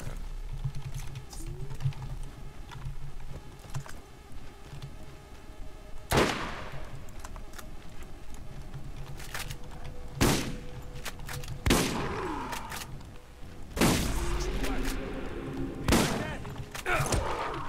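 Pistol gunfire in the video game Borderlands: a handful of sharp, separate shots spaced several seconds apart, each a crisp loud crack over a busy game background, with a few quicker clusters of shots toward the end.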